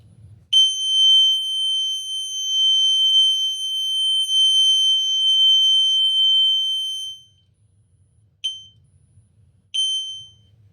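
A fire alarm sounds a loud, steady 3000 Hz continuous tone for about seven seconds, stops, then gives two short bursts after brief pauses.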